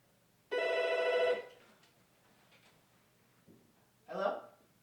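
A telephone bell rings in one short burst for a radio sports show call-in, followed by quiet and a brief, faint voice near the end.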